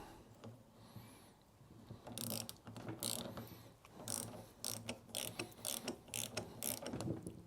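A hand ratchet tightens bolts on a Hypro 9910-D30/AR30 pump during a rebuild, with rapid rhythmic clicking bursts repeated in short strokes, close and fairly quiet, after some faint handling noise at the start.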